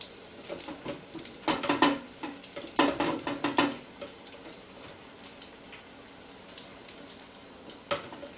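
Guacamole balls fry in hot oil close by, sizzling and crackling with scattered pops and light clinks of utensils. It is busier at first, then settles to a quieter fizz.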